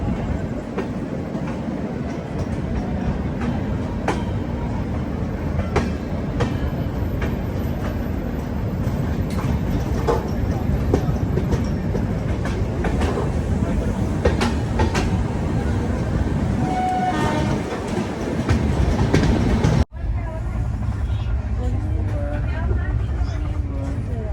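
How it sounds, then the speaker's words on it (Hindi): Udhampur-Prayagraj Express passenger train running after leaving Jalandhar Cantt station, a steady loud rolling rumble with repeated clickety-clack of wheels over rail joints from on board, ending with a sudden shift to quieter carriage noise. "तो अपनी ट्रेन अब निकल चुकी है जालंधर कैंट रेलवे स्टेशन से"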